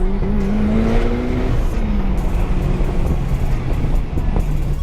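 Turbocharged 300 hp Mazda Miata pulling hard through the top end, its engine note rising in pitch and then shifting after a gear change, loud and close over road and wind roar, with no talk.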